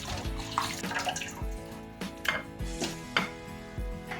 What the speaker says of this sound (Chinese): 把酸菜头洗两遍，